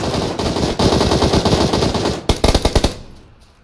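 Rapid automatic gunfire in a squad shooter video game, a dense sustained burst for about two seconds followed by several separate loud shots, then a quick fade to quiet.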